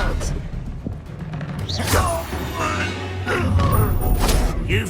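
Spell impacts from Expelliarmus and Confringo in a Hogwarts Legacy duel: heavy thuds and booming crashes with whooshing bursts over a continuous game music and rumble bed, with shouted voices among the effects.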